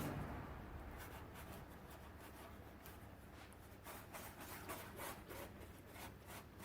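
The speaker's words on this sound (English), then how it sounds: "using your finger, rub it all over the lens" A finger rubs toothpaste polish over a yellowed, cloudy plastic car headlight lens, giving a steady close-up scrubbing and rubbing sound with rhythmic strokes throughout.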